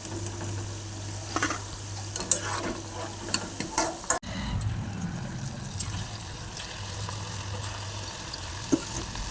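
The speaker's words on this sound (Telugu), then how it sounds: "ఇవి కూడా కొంచెం ఫ్రై అవ్వగానే తీసేయాలండి" Cauliflower pakoras frying in hot oil as they are turned, a low bubbling sizzle broken by sharp clicks and knocks of a utensil against the pan, moderately close, with no voices.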